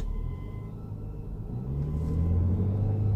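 Inside a 2011 BMW 335i while driving, a steady low rumble fills the cabin, and a humming buzz climbs in pitch and grows louder toward the end.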